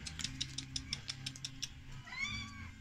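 Stray cats being fed outdoors give a quick run of short, high meows and chirps, then one longer drawn-out meow, fairly close over a low background hum.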